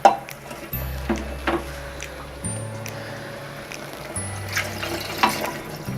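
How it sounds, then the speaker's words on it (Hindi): About a glass of water splashes and pours into a pot of dum aloo in a few bursts, close by, with some light clinks and a low background hum. "हमने लगभग इसमें 1 गिलास पानी डाला है"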